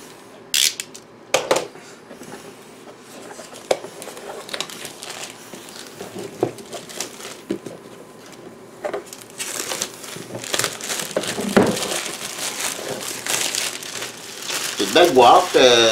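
Plastic shrink-wrap crinkles and crumples close up as the Aeon's End Legacy board game box is unwrapped and opened. Sharp tearing bursts come first, then a steady rustle that builds louder toward the end.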